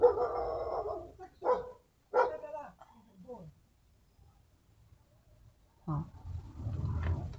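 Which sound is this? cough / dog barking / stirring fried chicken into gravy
dog barking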